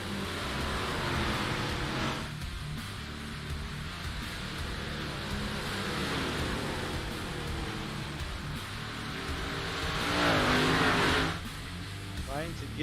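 Dirt track race cars roar through a heat race at I-55 in a sim racing session, engines droning steadily with a louder surge near the end, while a commentator talks over the racing.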